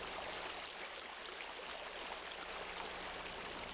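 A stream runs at a recently restored river site, its water rushing in a constant, dense wash that fills the whole clip without any voices.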